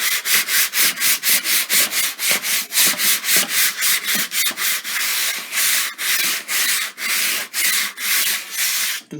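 A small sandpaper block rubs back and forth across a black canvas in steady, rhythmic strokes. The scratchy sound is close and clear, with no talking.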